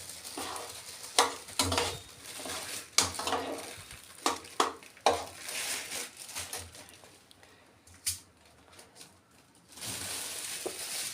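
Semolina dry-roasting in a pan for rava laddu, stirred with a spoon: irregular scraping and clinking strokes over a soft, steady toasting hiss, close and moderately loud, no voices.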